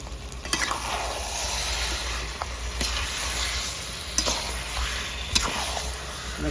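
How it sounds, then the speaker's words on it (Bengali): Masala paste, spice mix loosened with water, frying in oil in a pan for haldi chicken, a steady close sizzle under repeated scraping strokes of stirring with a few sharper clinks. "কষতে কষতে দেখুন তেল ছেড়ে দিয়েছে"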